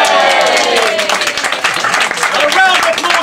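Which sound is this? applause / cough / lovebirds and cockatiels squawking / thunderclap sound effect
applause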